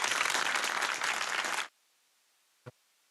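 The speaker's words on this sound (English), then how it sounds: "Give him a round of applause" Audience applause greeting a guest on a talk show, a dense burst of clapping for about a second and a half that cuts off abruptly, followed by near silence and one short knock.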